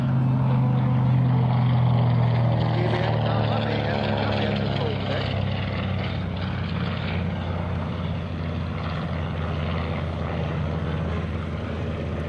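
Warbird fighter aircraft including a P-47 Thunderbolt and a P-51 Mustang pass over an airshow, a steady loud propeller-engine drone with a gradual rise and shift in tone, with an announcer talking over it.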